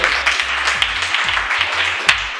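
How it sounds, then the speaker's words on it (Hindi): A classroom of young students claps for a classmate, a dense, bright patter of many hands with uneven peaks, heard over a low background hum and no speech. "श्रेया के लिए ताली बजा दीजिए।"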